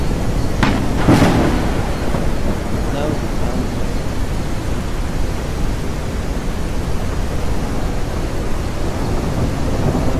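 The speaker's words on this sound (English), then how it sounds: "Okay, storm's up coming." Thunderstorm in a survival video game: a steady, loud wash of rain and rumbling with a sharper thunder crack early on, continuous throughout, with a voice talking over it.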